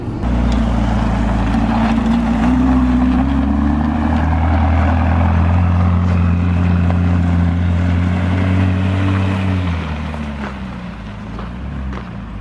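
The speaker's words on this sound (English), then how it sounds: "Sorry about the background noise guys, I've just got to the petrol station." Steady low engine and road rumble at a petrol station with passing cars, broad and continuous, loud near the microphone with some wind noise, easing slightly toward the end; no talk.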